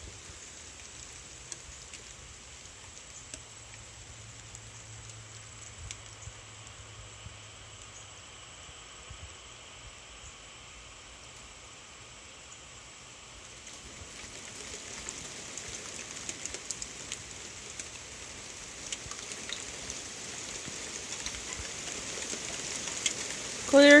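Rain falls steadily under clear skies, a faint, even hiss that holds low for most of the stretch and grows somewhat denser and louder toward the end.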